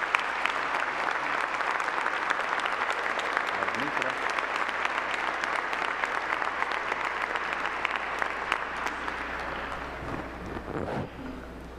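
A church congregation at Mass applauds the auxiliary bishop with long, sustained clapping from many hands that fills the room, with crowd murmur underneath, fading slightly at the end.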